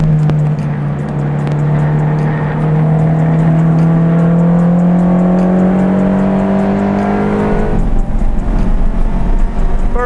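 A Honda Civic with a swapped-in Type R engine pulls hard on a race track, its loud steady engine note climbing in pitch for several seconds before a gear change drops the tone and it roars on.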